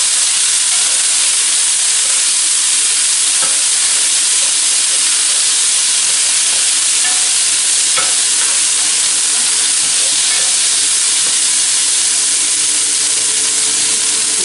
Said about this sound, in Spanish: Y ahora le vamos a poner el sofrito básico que yo tengo aquí.